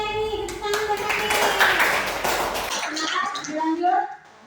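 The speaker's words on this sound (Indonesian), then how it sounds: "Tepuk tangan buat Eni." Students in a classroom clap for a classmate, a burst of hand claps building then thinning out, with voices chattering over it before it fades to near quiet.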